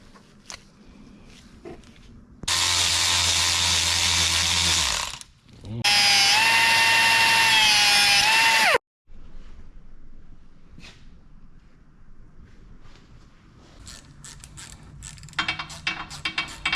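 Power tool tightening cooling-system parts on a Mercedes R230 SL55 with M113K engine: two loud, sustained whirring bursts of about three seconds each, with a brief pause between them, framed by quieter workshop clatter.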